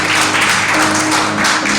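Broad, continuous clapping fills a church hall as the congregation applauds during a Spanish-language sermon, many hands blending into an even, crowded patter with a faint low hum beneath.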